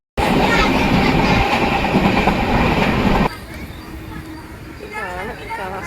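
The Sampark Kranti Express on the Ernakulam to Madgaon run near Kasaragod: a loud, steady rumble of wheels on rails that drops suddenly to a quieter clatter, with voices faintly underneath.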